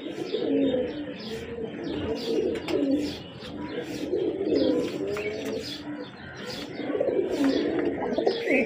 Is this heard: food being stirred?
no